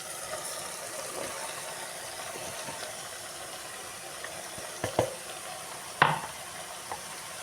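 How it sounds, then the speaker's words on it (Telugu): Ridge gourd pieces tipped into softened tomatoes in a pan, a steady soft sizzle running throughout with a couple of sharper scraping stirs and clatters near the end, no voices. "ఇప్పుడైతే బీరకాయలు వేసేసుకుంటున్నాను."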